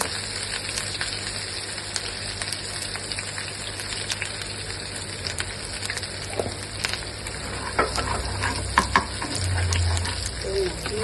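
Spice masala sautéing in oil over a medium flame for a lote fish curry, a soft steady sizzle with faint stirring scrapes and a few sharper clinks near the end.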